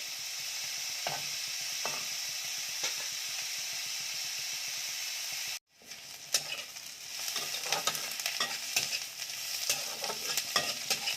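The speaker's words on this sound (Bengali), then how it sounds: "পেঁয়াজটাকে ভেজে নেব লাল লাল করে" Onions frying in a pan, heard as a steady close hiss with occasional stirring clacks, broken by a brief silence and then a louder, busier sizzle with scraping.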